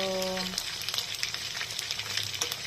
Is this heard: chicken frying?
yes